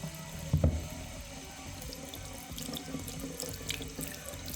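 A paintbrush is rinsed under a running sink tap after oil painting, steady faucet flow with a brief louder splash near the start and faint clicks and drips, quiet and without talk.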